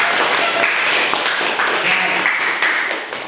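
A class in an Indonesian madrasah claps together, a dense burst of hand claps that fades slightly toward the end, with some murmuring among the students.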